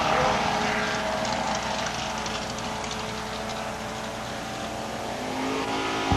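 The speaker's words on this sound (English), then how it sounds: "Mike Breen in a 1970 Camaro from Iona Station in the Tower Lane lifts the front end off the ground as he races away" A 1970 Camaro launches hard at a 1992 Labour Day drag race at London Motorsports Park, its engine roaring loud and sustained down the strip alongside a second racing car, with an announcer faintly audible beneath.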